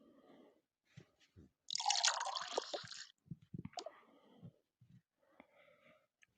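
Tea pours into a cup in one brief splashing stream lasting about a second, set between faint, sparse household sounds and soft voices.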